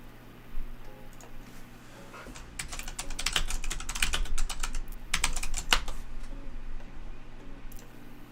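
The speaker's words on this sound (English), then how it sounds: "This is my Razer Huntsman V2 analog." Rapid, uneven clicking of a clicky Razer Huntsman V2 Analog keyboard as someone types in bursts, fairly close and moderately loud over a steady low hum, with no voices.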